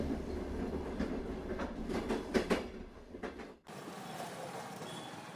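A train rolls along the tracks with rhythmic clacking and rumbling, then the noise abruptly shifts to a quieter, steadier hum.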